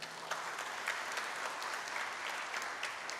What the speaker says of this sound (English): And one good round of applause to the MC of the day